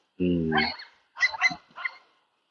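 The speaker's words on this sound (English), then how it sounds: "Dog's just barking at people" A dog on a street in Japan barks several times close by: one longer yelping bark, then a quick pair of barks and a final single one.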